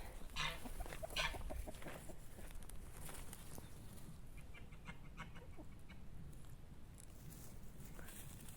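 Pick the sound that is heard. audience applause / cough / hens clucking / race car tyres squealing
hens clucking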